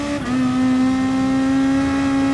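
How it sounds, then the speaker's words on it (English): A race car in a video game, racing in Kyoto, shifts down quickly through three gears. A short burst of engine blips gives way to a loud, steady engine drone, heard close with no talk. "Fast down the gears there, I love that noise when you do that."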